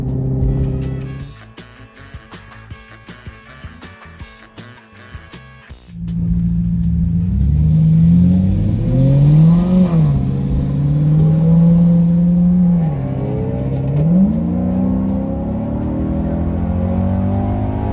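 A Maserati Quattroporte Sport GTS drives out of town, its engine rumbling low and rising through several revving accelerations and gear changes, loud and close, following a brief stretch of quieter idling with clicking.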